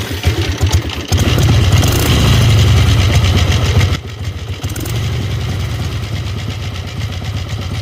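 A Harley-Davidson Ironhead Sportster motorcycle engine sputters to life and revs loudly, then settles into a steady, rough idle close by.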